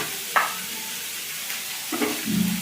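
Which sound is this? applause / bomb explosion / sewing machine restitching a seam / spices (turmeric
spices (turmeric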